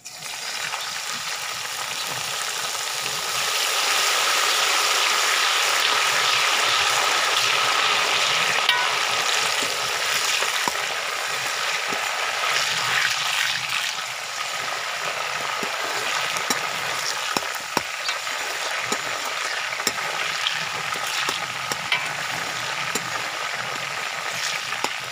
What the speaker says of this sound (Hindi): प्याज हमारे ब्राउन हो गए, इसमें थोड़ा सा पानी डालेंगे।